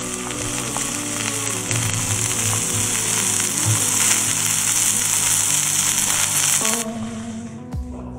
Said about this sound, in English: It is sizzling.